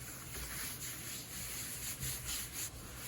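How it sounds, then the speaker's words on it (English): A hand rubs over a closed paper pop-up book to press the glue down, a soft continuous brushing swish, close up and faint. "Rub over the top of it so it gets glued easily."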